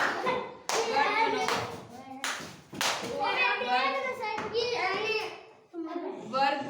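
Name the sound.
children clapping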